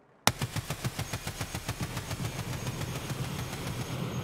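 A gun in Escape from Tarkov opens up after a moment of silence into a long automatic burst, rapid evenly spaced shots hammering out loud and close with a rolling, continuous rhythm.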